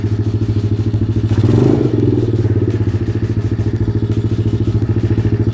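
Cheap dirt bike from Amazon idling steadily after a kick start, a close, loud continuous engine putter with a brief rev swell near the start, running alone without talk.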